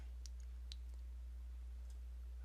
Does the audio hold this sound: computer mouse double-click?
yes